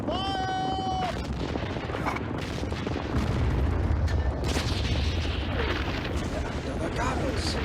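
Artillery guns firing in a World War I battle scene, heavy booms and rumbling blasts over a dense battlefield din, with shouted voices and a bugle-like tone near the start.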